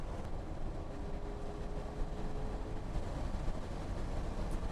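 A train rolls by in the distance near a castle, a steady low rumble with a faint sustained tone, continuous and even throughout with no voices.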